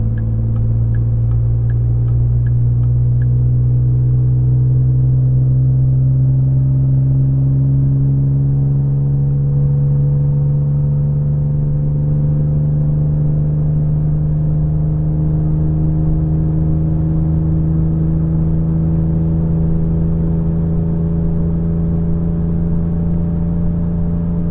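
Ford EcoBoost truck engine towing in tow haul mode, a loud steady drone close by that rises gradually in pitch as it pulls and shifts on its own, with faint ticking early on and no talking.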